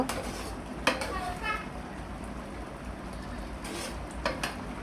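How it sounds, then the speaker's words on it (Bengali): Egg curry being stirred in a pan in a home kitchen, with a few soft scrapes and clinks of the spoon over a steady low background hiss, fairly quiet and close. "দিয়ে একটু নাড়াচাড়া করে নিব, নিয়ে মিশিয়ে নিব।"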